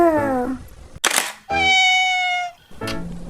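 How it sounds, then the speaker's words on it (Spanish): A cat meows several times, loud and close, with drawn-out cries separated by short pauses and a brief rustle between them. "¡El gato!"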